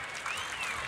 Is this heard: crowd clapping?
yes